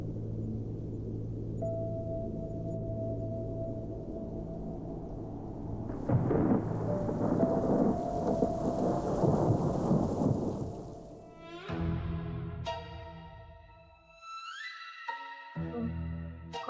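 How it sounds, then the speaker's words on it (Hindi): A nighttime thunderstorm with rain, a low rumble of thunder over steady rainfall swelling to a loud crash midway, followed by tonal ringing sounds as the storm noise fades. "लगता है बारिश होने वाली है।"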